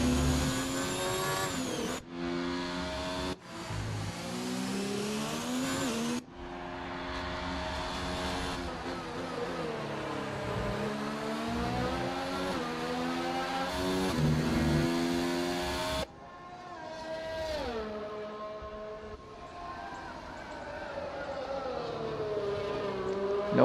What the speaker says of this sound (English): He is at least 10, maybe 15 seconds ahead of Vettel in the red Ferrari here.